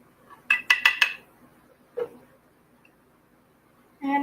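Metal spoon clinking and scraping against a container while scooping food out, a quick run of four sharp clinks followed by a single softer knock, close and clear in a quiet kitchen.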